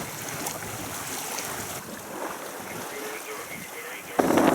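Strong wind, near 60 knots, roars across open sea around a sailing yacht leaving the Scandinavian archipelago, a steady rushing mix of wind and waves that turns sharply louder near the end.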